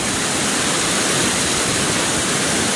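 Floodwater swollen by heavy rain surges past in a dense, unbroken roar, loud and near, with no voices over it.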